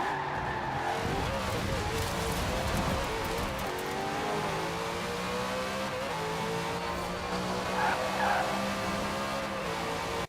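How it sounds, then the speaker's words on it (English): A 900-horsepower car in Forza Horizon 4 accelerates hard, its engine note climbing steadily through the gears for the whole stretch, loud and close, with tires squealing and skidding along the way. "It accelerates a lot faster than you'd expect a typical 900 horsepower car to accelerate."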